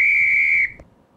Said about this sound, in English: that's the sound of the full-time whistle